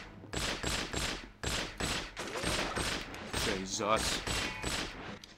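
Repeated bursts of video-game gunfire in From Russia With Love, sharp loud shots in a steady rhythm over the whole stretch, with someone talking over the shooting.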